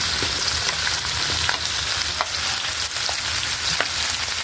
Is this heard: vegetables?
yes